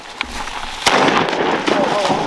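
Shotgun fire during a duck hunt at an Oklahoma farm pond: one sharp, loud blast stands out, with a fainter pop before it, over outdoor background noise.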